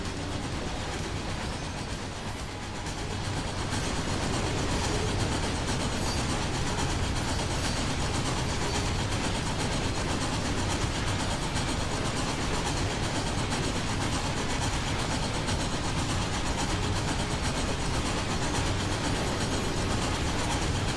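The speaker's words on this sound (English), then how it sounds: "Oh, hey, there's our train." A train rolls along in the Trainz railway simulator, a dense continuous rumble and rattle of wheels and cars that swells after a brief quieter opening and holds steady.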